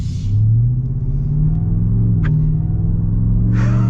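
A Ford Raptor R pickup truck's V8 engine idles with a loud, deep, steady rumble close by, with a slight rise and fall in pitch and a brief click partway through; no talking.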